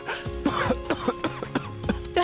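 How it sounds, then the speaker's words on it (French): A person coughs in a rapid series of harsh, chesty bursts, about eight or nine close, loud coughs in quick irregular rhythm with no speech. "T'es en train de tousser comme une vieille popote."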